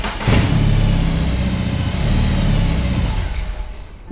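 A BMW R18 motorcycle's large boxer engine fires up and revs, a loud, steady low rumble with a throttle blip that holds for several seconds before easing off near the end, with no talking.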